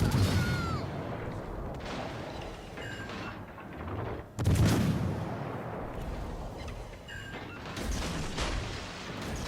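Heavy naval guns from a German tier-six cruiser fire repeated booming salvos in World of Warships Legends during a ranked match, loud and dense with rolling blasts and mechanical clatter throughout.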